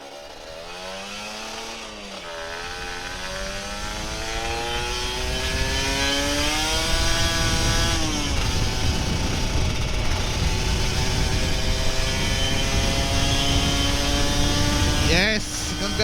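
A Kawasaki Ninja RR 150 two-stroke motorcycle revs and accelerates on a city commute, its buzzing engine climbing in pitch through repeated gear changes and staying loud and close, with a voice briefly heard early on.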